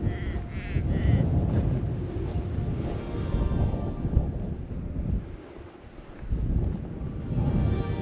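Wind gusting across the microphone on a walking trail at the foothills in Namadgi, a steady loud rumble that dips briefly and then returns, with faint bleating early on.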